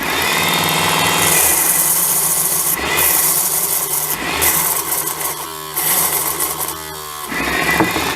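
Small Chinese mini belt grinder runs continuously close by, a steady buzzing whine with rough scraping rasp and slight fluctuations as the belt works.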